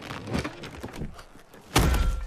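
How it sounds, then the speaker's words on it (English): A bag tearing off a character's shoulder in an anime lands with a single heavy metallic thud near the end, after a stretch of soft rustling and muffled movement. "the bag he's carrying rips off his shoulder with a metallic thud"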